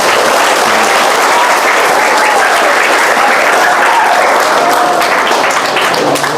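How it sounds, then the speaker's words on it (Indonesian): An audience at an Islamic boarding school gathering applauds loudly and steadily for several seconds, a dense wash of clapping from many hands with no break. "Tepuk tangan untuk pesantren dong."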